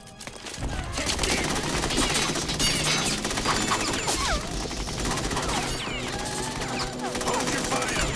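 Dense gunfire from Metal Gear Solid 2 on PS2, rapid automatic bursts and overlapping shots with clanks and impacts, loud and continuous throughout with scattered voices mixed in.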